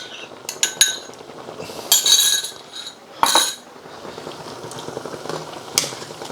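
Prawns go into a simmering pot of chicken noodle soup, with clinks of utensil against pot and soft bubbling between the sharper metallic taps.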